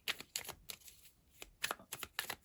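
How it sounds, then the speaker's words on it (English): Tarot cards are drawn and shuffled from a deck, producing soft, quick papery slides and flicks in short bursts, close and quiet, with no talk. "let's pull a couple cards on"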